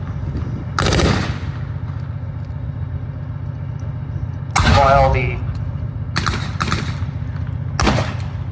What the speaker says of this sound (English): the Stug has now been taken out by that more upgraded cannon on the Sherman